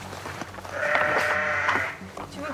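A ewe gives one drawn-out bleat, close and moderately loud, held by farm workers among background shuffling and handling noise.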